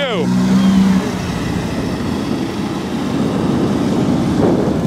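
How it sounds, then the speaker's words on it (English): Golf cart rolling by at a motorcycle rally campground, a steady motor and tire hum passing close under chatter and background voices for several seconds. "you guys saw the first golf cart that I noticed here driving by"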